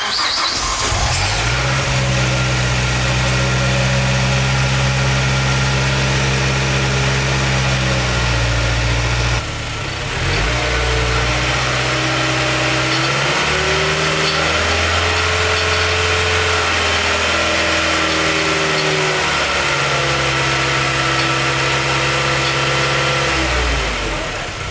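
A 2007 Mazdaspeed3 with a newly built 2.5-litre engine cranks and catches, then settles into a steady loud idle with a few slight rises in revs, no voices present.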